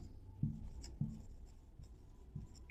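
Chalk or a marker taps and scrapes across a board during an organic chemistry lecture on structural formulas, giving a few distinct strokes with quiet pauses between them and no speech.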